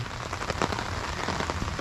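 Rain falls steadily during a freshwater fishing trip in natural surroundings, a dense, fairly loud patter of drops hitting surfaces that continues without pause and with no one talking.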